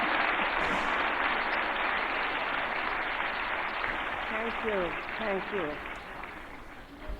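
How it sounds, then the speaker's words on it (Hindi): An awards-ceremony audience claps loudly and continuously for Waheeda ji, a dense roar of hands that gradually fades, while someone briefly speaks over it near the end. "जोरदार तालियों से स्वागत करें वहीदा जी का।"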